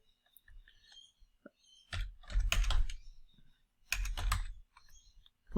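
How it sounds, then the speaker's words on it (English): Keys tapped on a computer keyboard while editing a spreadsheet: faint sparse clicks, then two short bursts of rapid clattering keystrokes, close and quiet. "I can type if I wanted to."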